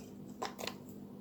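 Walnuts dropping into a smoothie cup during breakfast smoothie prep, heard as two quick, close rattling clicks in the middle of an otherwise quiet moment.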